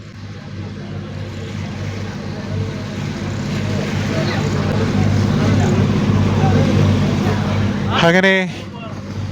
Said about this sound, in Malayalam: കിടിലൊരു ഹൗസ് ബോട്ടല്ല, സ്പീഡ് ബോട്ട് അങ്ങോട്ട് പോയി.